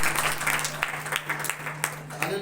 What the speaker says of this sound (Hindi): आइए यीशु मसीह के लिए जोरदार तालियां बजाएं